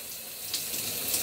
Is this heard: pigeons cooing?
no